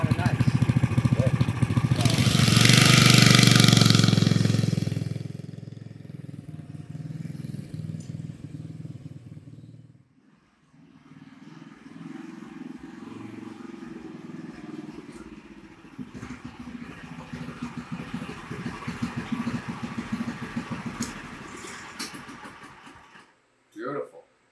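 A go-kart engine revs loudly up close at first, then drops to a steadier, lower running drone while people talk over it.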